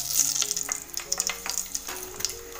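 Bay leaf and cinnamon dropped into hot oil and ghee for masoor chicken biryani, crackling in short bright pops and bursts of sizzle, close and fairly soft.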